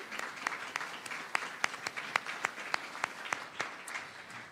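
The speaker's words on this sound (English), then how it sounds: "If you'd like to give yourself a round of applause, we'd like to acknowledge you" Modest applause at a building renaming ceremony honoring a former county executive, with distinct individual claps standing out over a thin wash of clapping, fairly faint and steady.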